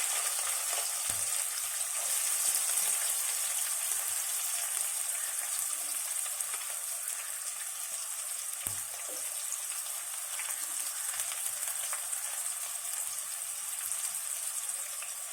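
Onions frying in oil for aloo samosa filling, a continuous bright sizzle with occasional soft stirring knocks, steady and fairly close, no talk.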